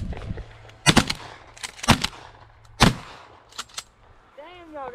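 Shotguns firing during an outdoor dove hunt, three loud sharp reports about a second apart followed by two fainter distant shots, with a bird chirping at the end.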